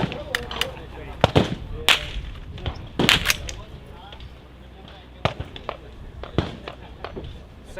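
Sharp, loud rifle gunshots crack at a firearms festival range, several scattered reports with a nearby voice speaking between them.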